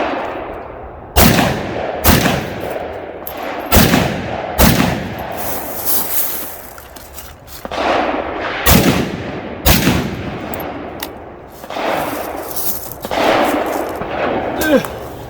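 Rifle shots from a PSA GF5 Romanian underfolder fired with a bare muzzle nut and naked barrel, roughly a dozen sharp, loud reports in irregular bursts with short gaps, ringing close by over outdoor background.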